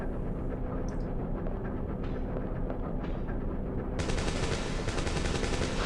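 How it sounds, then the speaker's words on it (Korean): Rapid gunfire from the PlayStation survival-horror game Dino Crisis, a dense loud stream of shots that keeps going, with a brighter, harsher burst taking over partway through; no one talks. "총소리죠?"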